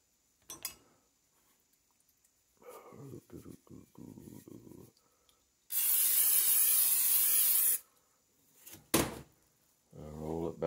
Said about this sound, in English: Now I'll spray this other side.